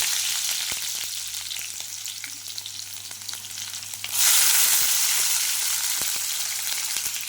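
Crushed garlic cloves and thinly sliced onion frying in a pan with a dried red chilli, giving a steady hissing sizzle that jumps sharply louder partway through and stays loud afterward.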